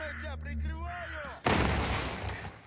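In the S.T.A.L.K.E.R. shooter game, a tonal whine gives way to a sudden loud grenade blast followed by dense rumbling gunfire and battle noise that slowly fades.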